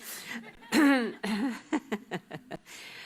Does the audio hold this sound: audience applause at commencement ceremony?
no